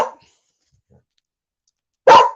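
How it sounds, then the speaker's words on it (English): A dog lets out two short, loud barks, one at the very start and another after about two seconds of silence. "Just ignore the dog."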